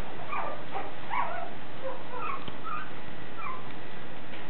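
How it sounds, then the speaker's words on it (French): A Westie puppy whimpers and yips in short, high, scattered cries over several seconds, fairly faint against a steady background hiss with no talking. "le Westie est un chien très subtil et comprend très très bien"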